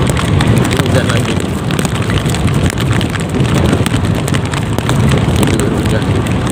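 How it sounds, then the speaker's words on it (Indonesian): A local rain shower during a daytime road trip to Alus-Alus village on Simeulue, Aceh, makes a loud, continuous hiss mixed with buffeting wind noise that does not let up. "Ini hujan lagi"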